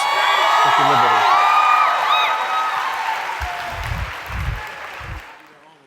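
Audience applause and cheering at a community gathering swell loudly at first, then gradually thin out over several seconds, with a few louder voices and claps near the end.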